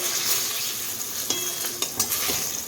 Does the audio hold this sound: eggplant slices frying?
yes